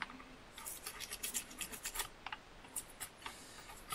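Quick, scratchy toothbrush strokes soaked in brake cleaner scrubbing greasy metal RC car differential parts, an uneven run of short bristly bursts up close with no talking.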